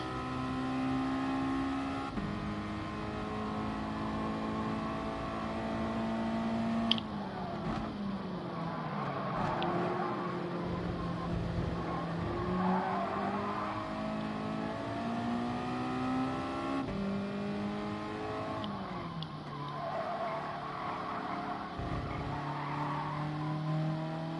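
Race car engines drone and rev in Gran Turismo Sport during a Nations Cup online race, a steady loud mechanical tone with shifting pitch, tire squeal and skidding, continuous throughout with no talk.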